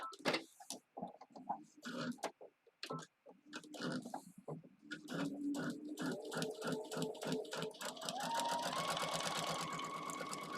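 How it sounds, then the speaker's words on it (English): A sewing machine stitches a straight line, starting with short stop-start bursts of rapid needle clatter and then running steadily and faster, close and fairly quiet. "And then you just sew down that line."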